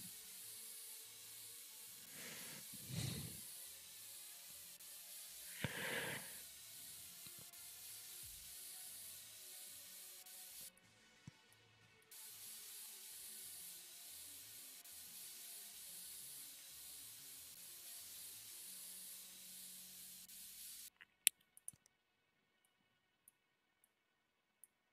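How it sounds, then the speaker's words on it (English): Cleaning spray hitting a dirty PC case in the video game PC Building Simulator: a long, steady hiss of spraying with a few short bursts, fairly quiet, ending in scattered clicks, with no talking. "let's spray the hell out of this."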